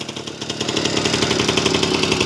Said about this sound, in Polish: Niskie obroty są ustawione tak, żeby też nie miał ich za niskich, bo to jest niezdrowe dla silnika wysokoobrotowego.